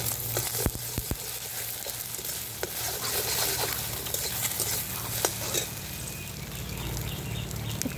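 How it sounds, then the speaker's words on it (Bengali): A chicken egg frying in a little oil in a hot wok, with steady close sizzling and crackling plus occasional sharp scraping taps of a spatula stirring throughout. "ডিমটা ভেজে নিচ্ছি"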